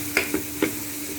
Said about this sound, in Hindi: इसको कर लूँगी मिक्स, ताकि ये लाल मिर्च मैंने हल्दी डाली है, इसका कच्चापन थोड़ा दूर हो जाए।